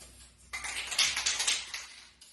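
A paint coat is sprayed onto a 2006 GT car: after a quiet start, a bright, hissing spray starts abruptly and pulses in short uneven bursts for about two seconds, close to the listener, with no talking.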